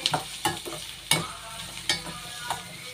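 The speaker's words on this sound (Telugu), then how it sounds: "ఒక చిన్న సైజు వెల్లుల్లి రబ్బలు వేసి బ్రౌన్ కలర్ వచ్చేంత వరకు వేయించొద్దు, పింక్ కలర్ వచ్చేంత వరకు మాత్రమే వేయించుకోండి" Small garlic cloves fry in hot oil until pink while a utensil stirs the pan, giving a soft steady sizzle broken by several sharp scraping knocks, close and moderately loud, with no voices.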